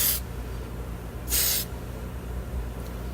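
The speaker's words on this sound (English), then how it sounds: "I might spray these lights just one more time with one more layer of red" Two short hissing bursts of an aerosol spray can applying red paint to BMW tail lights, close and fairly loud, separated by a quiet pause.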